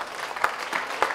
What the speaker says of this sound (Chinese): 再来一个阳光灿烂的掌声。